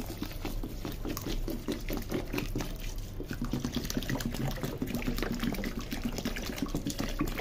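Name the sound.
washing polao rice in water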